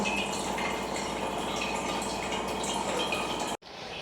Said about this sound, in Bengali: পিউরিফায়ারটা চালালাম, তো বোতলগুলোতে জল ভরে নিচ্ছি